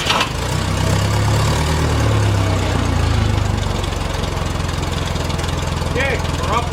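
An engine in a car or forklift, freshly fitted with a new battery after a fault caused very low cranking speed, runs and settles into a steady, loud, close idle, with voices speaking briefly near the end.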